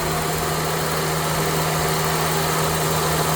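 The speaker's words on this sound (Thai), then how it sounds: "เครื่องยนต์นิ่งมากครับผม" A Toyota sedan's engine idles steadily and smoothly, a constant close hum with no talking.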